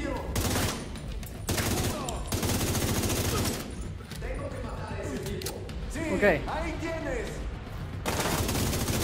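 Automatic gunfire in the shooter video game The Division 2, with repeated bursts and rapid volleys throughout, loud and close, mixed with game sound effects and voices.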